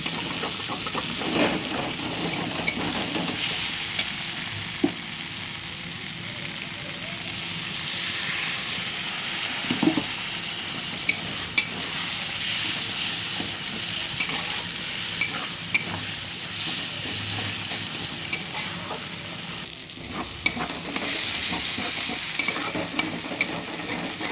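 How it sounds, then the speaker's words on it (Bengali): Ground spices with red chilli powder and chilli paste frying in a pan for a vegetarian paneer curry, a steady close sizzle with scraping stirring strokes and occasional clinks throughout, no talk. "মশলা ভাজা হয়ে গেছে।"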